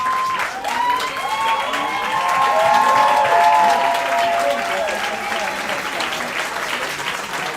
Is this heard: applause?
yes